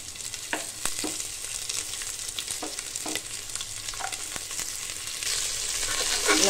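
Chopped shallots sauté in a pan for country chicken curry, a close, continuous sizzle broken by irregular spatula knocks and scrapes, growing louder toward the end.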